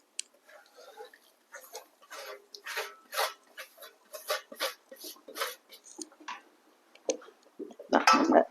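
A spoon stirs semolina in a pan for rava kesari, tapping and scraping against the metal in a rhythmic series of sharp, close clinks with brief pauses between strokes.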